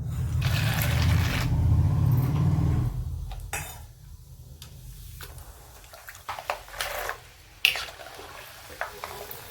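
Peanuts deep frying in hot oil for Diwali chivda, a sustained sizzling hiss at first that dies down, then scattered scraping and sharp clinks of a utensil against the pan.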